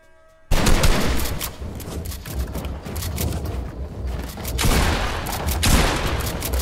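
Rapid gunfire erupts in a Fortnite match, dense continuous volleys of shots that start abruptly and stay loud throughout, with no talk over them.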